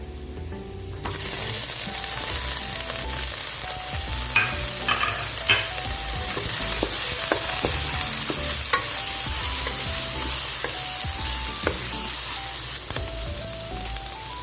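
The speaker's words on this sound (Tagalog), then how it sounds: "Just cook the garlic. Then let's add our onion." Garlic and onion fry in a pan in a bright, continuous sizzle, broken up by the scrape and clatter of stirring against the metal. No one speaks.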